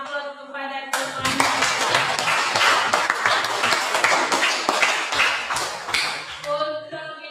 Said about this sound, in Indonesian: berikan aplaus kepada Tuhan